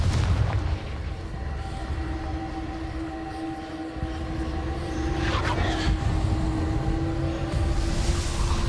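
Confringo blasting spell in the Hogwarts Legacy video game, a deep rumbling boom that rolls on with a low drone and tonal hum, a second burst rising near the middle, no voices.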